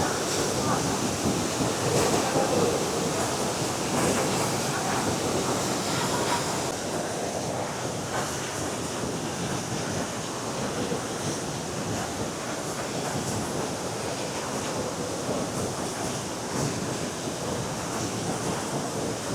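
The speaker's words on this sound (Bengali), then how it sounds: "বোর হিল ওয়াটারফলসের রূপটা শুধু দেখুন, জলের স্রোত কি চলছে এখানে, আর জল পড়ছে এই উপর থেকে" Bor Hill waterfall near Mawlynnong pours down from above in a dense, unbroken roar of falling water and spray, loud and even throughout with no pauses.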